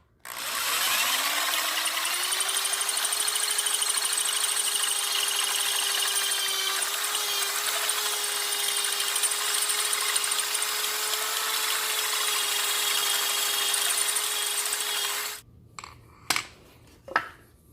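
A power drill whines steadily at high speed for a long stretch, close and loud, drilling out a metal spark plug non-fouler, then stops, followed by a few metallic clinks and taps.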